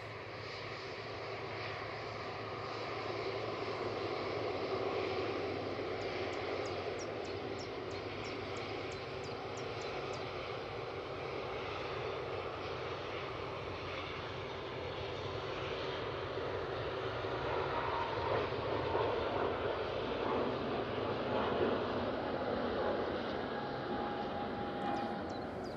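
An EasyJet airliner takes off from runway 05 left at Manchester Airport, its jet engines a steady, distant roar that builds gradually and holds strong throughout.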